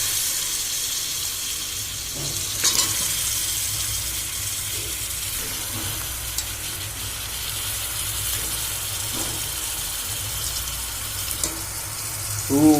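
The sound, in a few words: mutton meat frying and being stirred in a pan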